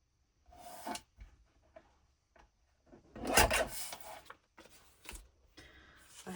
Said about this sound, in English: Lots of cutting noises today.